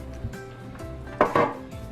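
A metal bread loaf pan is picked up and set down while making homemade white sandwich bread, producing a few light knocks and a brief louder clattering scrape near the middle, close by in a quiet kitchen.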